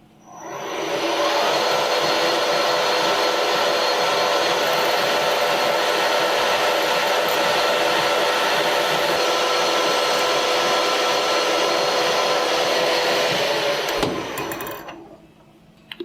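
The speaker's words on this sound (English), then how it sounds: "You'll notice as I was drilling how I was drilling in and then backing out and then drilling in and then backing out." A drill bit bores into a part turning on a lathe, making a loud, steady, close whir with a grinding edge that holds for about thirteen seconds before winding down.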